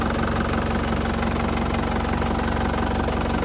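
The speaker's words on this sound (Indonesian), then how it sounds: "Lanjut kita review bagian mesin ya." A 2015 Isuzu Panther Grand Touring engine runs at a steady idle, with a loud, even, rumbling drone and a faint knocking rhythm that continues unchanged throughout.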